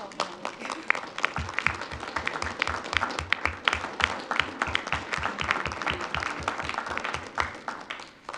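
Employees and parents stand at a Jordan School District board of education meeting while the room gives them a hearty round of applause. Many hands clap continuously over a steady, regular low thumping beat.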